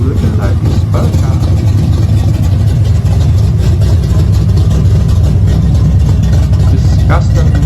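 A twin-turbo custom muscle car engine idles loudly and steadily at a drag racing event, its low rumble constant throughout while people talk over it.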